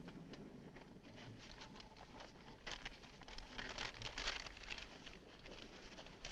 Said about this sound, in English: Spread the map out on the hood.